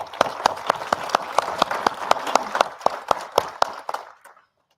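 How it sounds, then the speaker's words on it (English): A few people clap for a guest at a South Dakota legislative session event, with sparse, distinct claps in an uneven rhythm, fairly close, that thin out and stop after about four seconds. "Let's give him a hand of applause."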